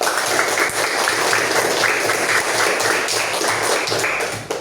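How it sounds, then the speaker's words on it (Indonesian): A classroom of students applauds together, a loud, continuous patter of many hands clapping in uneven bursts that eases off only at the very end. "Tepuk tangan untuk kita semua."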